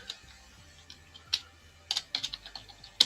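Someone types on a computer keyboard during a Python coding session, producing a short run of irregular, close key clicks with brief pauses between them.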